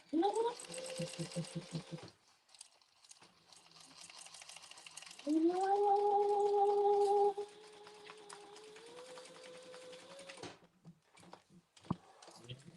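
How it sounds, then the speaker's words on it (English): A sewing machine stitches a harmonica hobo bag, running in several bursts of steady mechanical whirring with pauses between them, close and clear, while people talk quietly in the pauses. "We're sewing right to the end."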